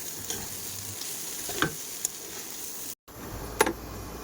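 Steady sizzle of home-grown corn frying in a pan with a few scraping stir clicks, briefly cut by a moment of silence before the sizzling resumes.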